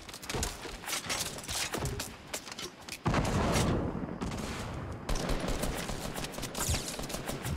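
Rapid bursts of gunfire in Fortnite Battle Royale, a dense fusillade of shots running throughout, with a heavier, louder stretch of sustained fire partway through.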